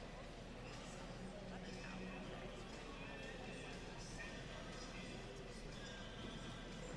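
A horse neighs and whinnies at an equitation finals show in New England, with hoof clip-clop and steady arena noise and crowd babble running underneath.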